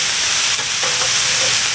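Vegetables fry on a hot hibachi griddle, a loud continuous sizzle and hiss with faint scraping touches, with no voices over it.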